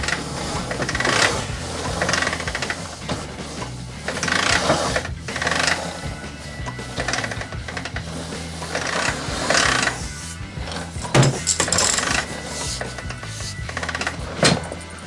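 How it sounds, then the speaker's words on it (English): An Amflo retractable air hose reel winds its hose back in with a loud, continuous mechanical ratcheting whir, close by, pulsing in surges for about fifteen seconds. "then you can retract and let it reel up"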